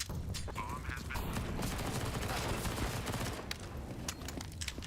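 SMG fire in a competitive video game match, a dense rattle of rapid gunshot bursts layered over background game noise, with faint commentary speech underneath.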